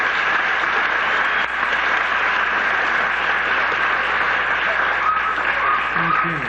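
Audience at a musical show applauding the poster artist, a sustained steady clapping from a crowd that fills the room throughout, with a voice briefly heard near the end.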